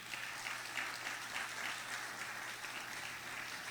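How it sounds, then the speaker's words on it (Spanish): A church congregation applauding during a Spanish-language sermon: steady, dense clapping from many hands, faint and distant, continuing without pause. "Den un aplauso al Señor."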